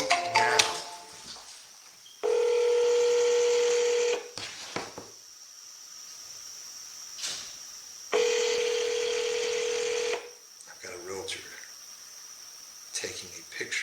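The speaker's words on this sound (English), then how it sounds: "Calling you now." Phone call being placed: two long, steady ringback tones, each about two seconds, separated by a pause, loud and clear with faint background sounds between.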